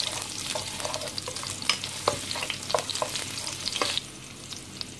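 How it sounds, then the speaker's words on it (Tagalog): Sliced onions sizzle steadily in hot oil while being sautéed for ampalaya con carne. A utensil scrapes and stirs against the pan in several sharp clicks, and the frying hiss fades a little near the end. "first step po, tayo po yung magigisa ng sibuyas"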